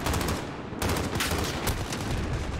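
Sustained machine gun fire in Call of Duty: Modern Warfare, a dense, loud stream of rapid gunshots with barely a pause across the whole stretch.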